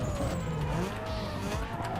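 A car in Need for Speed Underground 2 drives hard with engine drone and sustained tire squeal as it skids through a turn, loud and close, with no talk over it.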